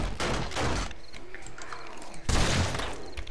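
Gunfire in the survival game 7 Days to Die, with heavy bursts of shots and booms in quick succession, a brief lull and then another loud volley.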